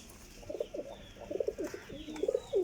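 Teddy pigeons with red eyes, kept as fancy breeding birds, coo in a series of soft, throaty, rolling calls that come in short repeated bursts at close range, with no talking over them.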